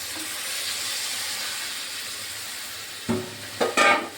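Steady sizzle of giant taro root frying in a pan, then water poured in near the end sets off a few sharp, loud bursts of hissing spatter, close up with no talk.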